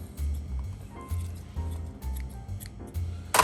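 Kitchen shears cut down the middle of a lobster tail, making close, repeated crunching snips in a steady rhythm of about six cuts, then a louder crackle at the end, with no talk over it.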